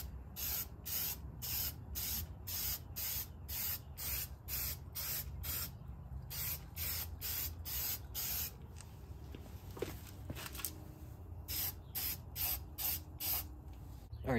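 Aerosol spray paint applied as a second coat over rust repair on a 2000 Honda Civic in a home garage, steady repeated short hissing bursts in a quick rhythm, close up with no talk.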